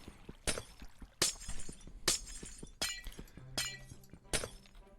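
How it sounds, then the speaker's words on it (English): Glass shattering in the video game Minecraft, six separate crisp breaks spaced roughly evenly, each a bright tinkling crash with clinks trailing after, close and fairly clear. "Without breaking too much glass."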